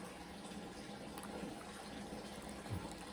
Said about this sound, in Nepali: फेरि धारा आयो धारा।